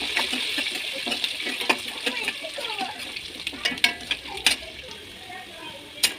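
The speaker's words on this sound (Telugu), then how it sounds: "దానిలోనే కొంచెం కరివేపాకు కూడా వేసుకొని వేయించుకోవాలి." Curry leaves fry in hot oil for an Andhra-style pumpkin curry, giving a continuous soft sizzle with scattered sharp pops and crackles, close and moderately quiet, with no talk.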